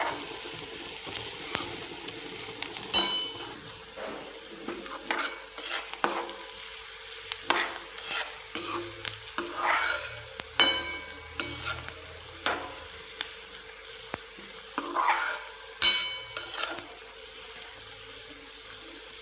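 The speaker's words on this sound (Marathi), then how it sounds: "इथे मी चिमूटभर हिंग टाकते आणि याला छान असं मिक्स करून घेणार आहोत" A pinch of asafoetida stirred into hot oil in a pan for a fenugreek thecha, with a low sizzle under repeated sharp scrapes and clinks of a spoon over a long stretch.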